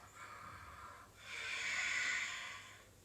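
Slow, audible breaths during a yoga flow: a soft inhale, then a longer, stronger exhale through the nose that swells and fades, close and quiet.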